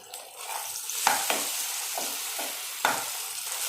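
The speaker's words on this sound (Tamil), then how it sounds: "இப்போ நம்ம இஞ்சி பூண்டு பேஸ்ட்டு ப்ளஸ் வெங்காயம், தக்காளி, அந்த மிளகு, சீரகம் நம்ம அரைச்சோம் இல்லைங்களா, அந்த பேஸ்ட்டையும் நம்ம கலந்துக்கலாம்" Ginger garlic paste is stirred in a hot pan with ground tomato, onion, pepper and cumin paste, giving a continuous close sizzle broken by spoon scrapes and a few sharper knocks against the pan.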